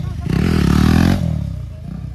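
A motorcycle revs hard while popping a wheelie on a Sunday group ride, its loud engine roar building then easing off, with voices nearby.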